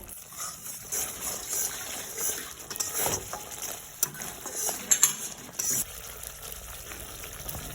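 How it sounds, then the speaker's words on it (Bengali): Spice paste with salt and turmeric fried and stirred in a pan for a vegetarian Bengali dish, a soft steady sizzle with scattered scraping and utensil clicks, moderately close and without speech. "এবার মশলাটা ভালো করে কষিয়ে নিতে হবে যতক্ষণ না তেল ছাড়ছে ততক্ষণ কষাতে থাকবো"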